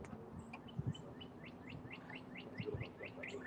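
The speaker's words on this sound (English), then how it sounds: "there's a lot of birds up there" Birds call from up in the trees outdoors, a steady run of short, bright chirps repeating at an even pace, moderately distant over a soft background hum.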